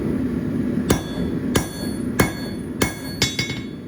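A blacksmith's hammer strikes hot steel while setting down the boss on forged box jaw tongs, six sharp ringing blows at uneven intervals, close and alone.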